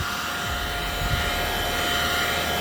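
Heat gun blowing hot air around the edges of a Type R tail light, a close, steady hissing whoosh that continues without break.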